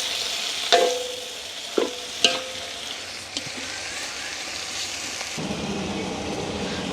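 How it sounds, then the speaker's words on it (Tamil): Prawns sautéing in a pan, seasoned with tomato and salt, in a village kitchen: a steady close sizzle with a few sharp clanks of stirring early on. "இப்போ இறால் நல்லா வதங்கட்டும்"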